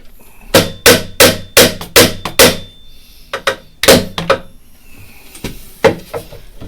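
Hammer driving nails into a small wooden wall for a 1/6-scale loft diorama, a close, loud run of sharp evenly spaced taps, then scattered, more irregular blows.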